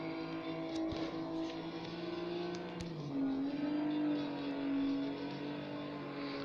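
A racing car engine from the Need for Speed Most Wanted video game hums along quietly, with a sustained, slightly shifting engine note and no talking.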